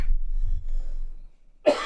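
A single sharp cough breaks in near the end on a live sports radio show, loud and close to the microphone, after a stretch of low rumble and near silence.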